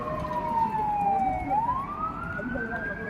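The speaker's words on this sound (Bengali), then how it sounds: "একটা অ্যাম্বুলেন্স আসছে" An ambulance siren wails along a street at night, sweeping down and then back up in pitch. It sounds moderately distant over a steady rumble of traffic.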